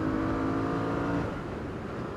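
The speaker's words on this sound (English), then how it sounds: "as you can probably hear, it's quite a rude engine actually" A Benelli Leoncino 800 Trail motorcycle's engine revs with a rough, throaty roar that holds a steady pitch, then falls away. Loud and close, with no talking.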